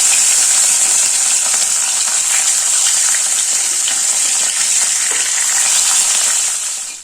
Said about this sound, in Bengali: দেখুন এইভাবে ভেজে নিয়েছি একইভাবে বাকি তিনটে মাছও ভেজে নেব